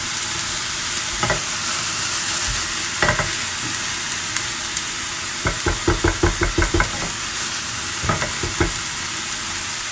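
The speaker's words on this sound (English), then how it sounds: "to give some color to the onion. This nice brownish color." Onions fry in a pan until browning, a dense steady sizzle under repeated spatula knocks and scrapes, with a quick rhythmic run of taps partway through, all close and continuous.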